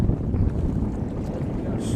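A fishing boat's motor drones steadily on a river fishing trip near Panorama, a continuous low rumble mixed with wind buffeting the microphone, with no voices.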